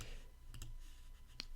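Mouse clicks in Xcode: a close double click followed a moment later by a single sharp click, crisp and quiet against a faint room hum.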